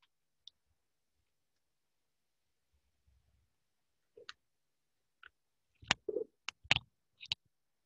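A small bird gives a few sparse, short chirps and clicks. They start faintly, then come in a quick cluster near the end against near silence, with no speech.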